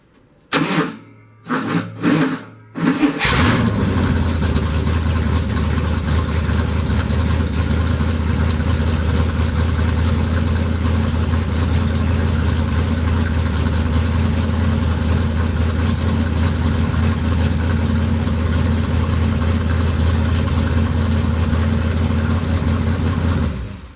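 Mopar car engine with a points distributor and an old, dragging starter: a few short cranking bursts, then the engine catches and settles into a loud, steady idle that runs on without talk.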